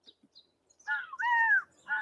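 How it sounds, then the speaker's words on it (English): Blackbirds in a flock give harsh, nasal calls, two or three drawn-out squawks close together, preceded by faint clicks and then silence. "Big flocks of blackbirds want to eat the corn."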